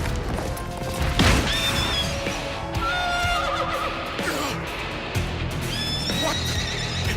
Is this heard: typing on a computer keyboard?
no